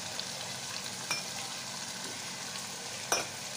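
Rice with black pepper powder, red chilli and salt fries in a pan, giving a faint, steady sizzle with a couple of sharp clinks from stirring, and no voices.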